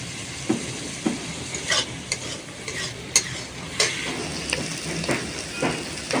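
Freshwater snails (gugli) frying in a pan with onion, ginger and garlic, a steady close sizzle broken by periodic scraping stirs of a spatula, with no voices.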